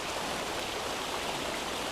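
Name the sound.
river water flowing after rain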